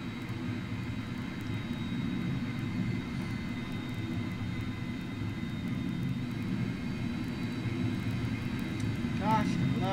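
Fokker 100 jet airliner in a flight simulator game, a steady engine roar and rumble running throughout at moderate level, with a brief chirping sweep near the end and no talking.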